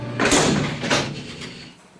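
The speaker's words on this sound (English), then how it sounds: "separated from the rest of the prison by its own electronic security doors" Electronic security doors in a Los Angeles jail's medical services building slide and thud shut, two loud mechanical surges within a couple of seconds, close by and echoing.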